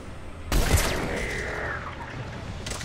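Gunfire in the Mass Effect 3 video game: a sharp burst at about half a second followed by a sustained rattling, whooshing fusillade with sweeping tones, fairly loud and close, with no talking.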